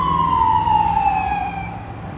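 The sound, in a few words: ambulance siren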